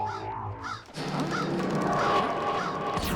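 Cartoon crows calling with harsh, honking caws from a Spanish-dubbed children's animated series about a robot boy, several loud repeated calls over a busy layered soundtrack.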